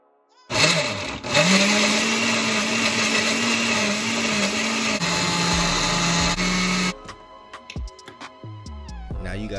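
Countertop blender whirring steadily as it blends aloe vera, loud and close with a shifting motor pitch, running for about six seconds before shutting off, followed by clattering and handling noises.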